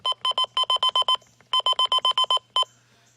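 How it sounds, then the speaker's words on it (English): Sima First Alert WX-268 weather radio buttons give sharp, high-pitched electronic beeps in two quick rhythmic runs of about eight, each ending with a lone final beep, loud and close. "the button beeps"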